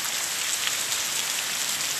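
Heavy rain falls in Touros, Brazil, a dense, even hiss of drops striking surfaces that stays steady and loud throughout, with no voices.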